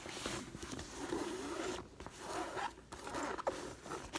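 Zipper on a black textured item with black lining, handled close up in a quiet setting: repeated soft zipping and scratchy drags over a few seconds, faint and intimate, no speech.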